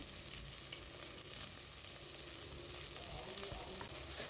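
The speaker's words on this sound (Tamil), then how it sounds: "வெங்காயம் ஒரு நிமிஷத்துக்கு வதங்கட்டும்" Chopped small shallots fry in oil, giving a continuous soft crackling sizzle with faint stirring, steady and fairly quiet throughout.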